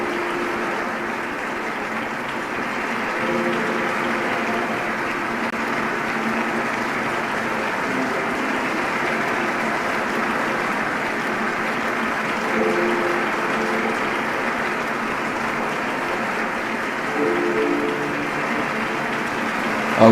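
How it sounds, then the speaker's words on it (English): Sustained audience applause for new members welcomed at a community gathering during a peace festival, a dense, even wash of many clapping hands lasting about twenty seconds. "let us give a round of applause as the new members are welcomed"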